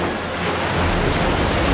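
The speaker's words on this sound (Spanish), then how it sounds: "¡El agua está corriendo por aquí!" Cartoon flood water rushes in a dense, roaring wash that grows slightly louder over a brief moment, with no voices over it.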